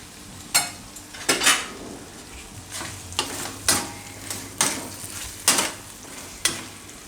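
A spatula knocks and scrapes against a pan in a rhythmic series of sharp strokes as a Jain pav bhaji mixture is stirred into gravy, with a soft sizzle underneath and no talking.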